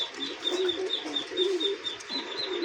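Pigeons kept for sale coo in soft, repeated low calls mixed with a few higher chirps, close and steady over a couple of seconds with no talking.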